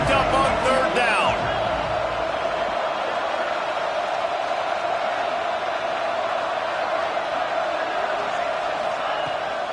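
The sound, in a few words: football stadium crowd cheering on third down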